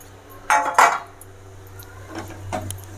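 Fried chicken pieces being stirred into Manchurian sauce in a pan, with a couple of close, sharp clinks of a utensil against the pan followed by quieter scraping and shuffling.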